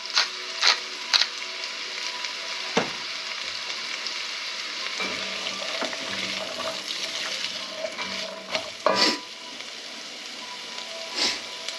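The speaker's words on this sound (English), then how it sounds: "Saute this for a little bit and a tablespoon of butter." Carrots, celery and onions sauté in a tablespoon of butter with a soft continuous sizzle, broken by occasional clinks and scrapes of a utensil against the pan.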